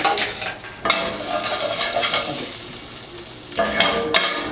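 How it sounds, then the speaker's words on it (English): Tomato paste fries in a little leftover oil in a pan for chicken nachos, a steady close sizzle broken by a few sharp stirring scrapes near the start and end, with no voices. "I always like to give a little bit of a fry in whatever oil's in the pan"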